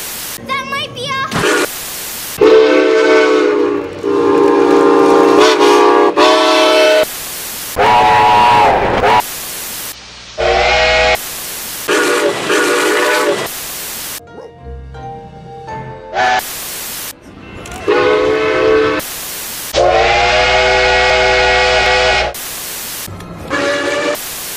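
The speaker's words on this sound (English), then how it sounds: "Steam engines have whistles that sound like this." Steam whistle of ATSF 3751, a Santa Fe steam locomotive, sounding a series of loud, sustained chime blasts of differing lengths and pitches, separated by short pauses.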